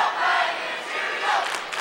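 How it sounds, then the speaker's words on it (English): A hockey arena crowd sends up a brief swell of cheering and shouting. The roar is broad and moderately loud and rises and falls across the short moment. "Crowd's finally coming alive a little bit"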